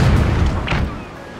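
Cannon fire in The Pirates! Empire 2 mod naval battle, a ship's guns loosing chain shot at an enemy vessel: a heavy low boom with a rumbling tail that fades out over about a second.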